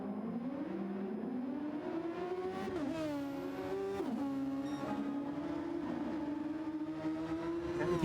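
Super Formula race car engines on the Spa circuit in a racing simulator, one engine droning steadily at high revs with brief gear-change dips, loud and close throughout.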